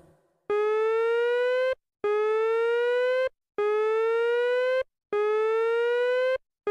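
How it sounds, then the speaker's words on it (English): The StarrPark emergency siren from the Brawl Stars video game sounds as four identical, loud electronic tones, each held for over a second and slightly rising in pitch, separated by brief silences. "please familiarize yourself with StarrPark's siren system"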